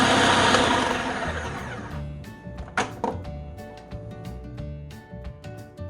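A food processor whirs loudly while blending an energy bomb mixture, then winds down into thumps and scraping knocks as the bowl is scraped, with intermittent short motor pulses.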